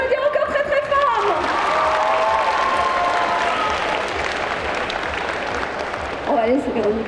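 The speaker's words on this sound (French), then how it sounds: "Vous pouvez l'applaudir encore très très fort." Sustained applause from a large audience at a cosplay contest fills the room, steady and loud, with a voice speaking French over it at the start and again near the end.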